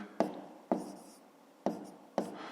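A pen writing numbers by hand in a notebook during a fifth-grade math exercise, four quick, distinct scratching strokes close by in a quiet room.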